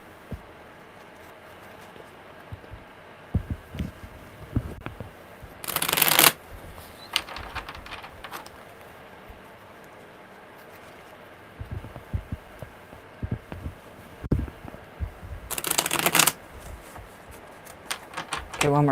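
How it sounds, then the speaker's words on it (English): Tarot cards riffle-shuffled twice in quick bursts, with scattered handling taps and thumps between them; no clear talking. "one more good shuffle"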